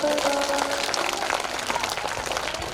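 Audience clapping at a Shreemad Devi Bhagwat katha, a dense, steady patter of many hands lasting throughout, mixed with voices and faint sustained tones.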